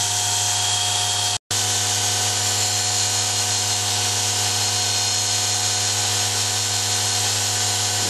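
A belt-driven overdrive conversion running at over 6,100 RPM gives a loud, steady high-pitched mechanical whine and hum with a brief cut of silence early on, then continues unchanged.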